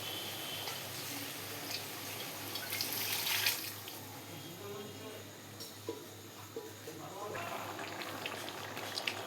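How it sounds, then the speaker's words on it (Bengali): Water poured into a cooking pot of peas for vegetarian ghugni, a continuous splashing and rushing stream with a brief louder surge, heard close beneath a person talking. "এবার দিয়ে দেবো জল পরিমাণ মতো"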